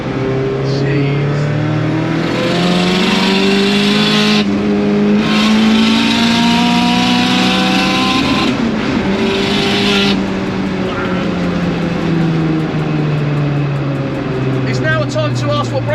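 Loud, close 500bhp Mk2 Ford Escort Cosworth revving hard with rising and falling engine pitch, its wastegate blowing off to the side, heard under excited talk throughout.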